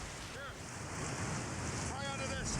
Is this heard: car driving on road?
no